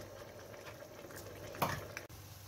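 Mushroom risotto rice simmering in white wine over medium-low heat, a soft steady bubbling hiss with one brief louder scrape of stirring.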